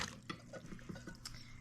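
Canned pineapple tidbits and their juice are poured into a dish of cherry filling for a dump cake, making quiet, close, wet splashing and dripping over a couple of seconds.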